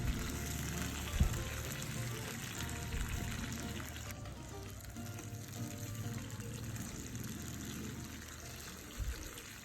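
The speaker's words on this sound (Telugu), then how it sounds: "ఆయిల్ వేసుకొని క్యాప్సికమ్ ముక్కలు వేసుకొని ఒక 5 నిమిషాల పాటు వేయించుకోవాలి" Capsicum pieces frying in oil in a pan for a peanut masala curry: a soft, steady sizzle with an occasional light clink, heard alone and fairly quiet.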